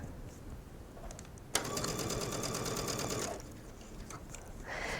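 A sewing machine stitches mesh fabric to elastic in one quick run of about two seconds. It gives a fast, even mechanical whirr that starts abruptly, then stops, in an otherwise quiet room.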